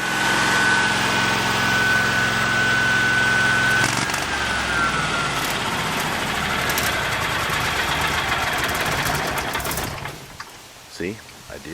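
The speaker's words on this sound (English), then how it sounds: "I'm going to go out and cut the welder off" An engine-driven welder runs steadily with a droning hum, then shuts off partway through and winds down, leaving quieter background sounds at the end.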